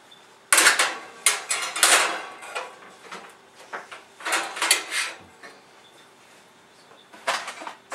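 An oven rack is pulled out of a kitchen oven before a turkey goes in, giving a series of metallic clanks, scrapes and rattles in irregular bursts with quieter gaps between.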